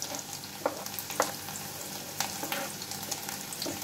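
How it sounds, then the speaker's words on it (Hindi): Broken red chillies fry in hot oil, a low steady sizzle dotted with small pops and stirring taps, heard up close at low volume. "इसी के साथ डालूंगी लाल मिर्च जो मैंने तोड़ के रखी हुई है"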